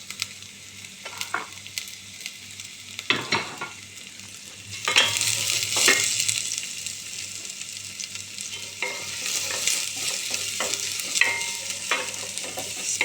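Onion and garlic frying and being stirred in a pan for spaghetti sauce, a crackling sizzle with scattered scraping knocks that grows denser and louder midway.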